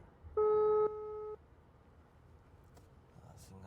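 A single electronic phone tone beeps once, about a second long and stepping down in pitch, then quiet room noise follows.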